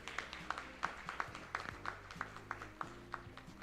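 Audience applause at the 7th Annual Insurance Brokers Association of Uganda Conference in Mbarara, greeting the gold sponsor: many hands clapping in a steady, moderately loud patter with regular sharper claps, no talk over it.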